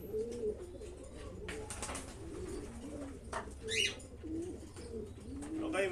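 Several racing pigeons coo in soft, rolling low calls, repeated throughout at close range, with a brief chirp and some rustling among the birds.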